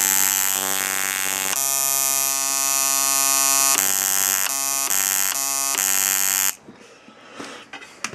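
A machine running on a modded power supply gives a loud, steady electric buzz, briefly interrupted a few times, then cuts off to quiet rustling and small clicks.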